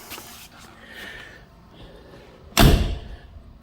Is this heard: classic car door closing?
yes